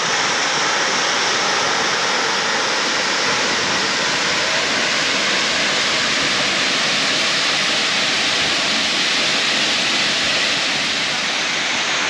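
A waterfall roars in a steady, loud, broadband rush that holds unchanged throughout, close by and with no other sounds over it.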